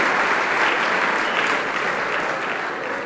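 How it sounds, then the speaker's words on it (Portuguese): Church congregation applauding a pair introduced on stage, dense sustained clapping from a large crowd, loud and even, easing slightly toward the end with no talk over it. "Palmas para a dupla Pó e Poeira."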